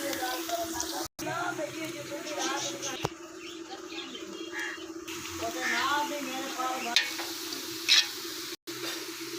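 Onions frying in a large pot of ghee for Punjabi chana pulao, a steady bubbling sizzle with stirring scrapes, and someone talking over it.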